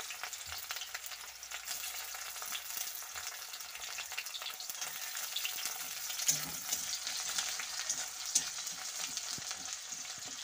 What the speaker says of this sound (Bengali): প্রথমে আমি দিয়ে দিচ্ছি পেঁয়াজ কুচি, তারপর দিয়ে দিচ্ছি রসুন কুচি